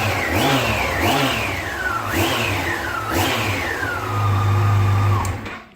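A 2011 Yamaha FJR1300 motorcycle on its stock exhaust pipes revs repeatedly, loud and close. Four quick throttle blips rise and fall, then comes a longer sustained rev before the engine drops away.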